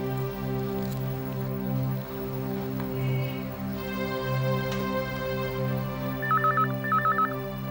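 A telephone in a home setting during a call, with electronic dial tones and short ringing bursts near the end, repeating in two quick clusters over a steady background hum.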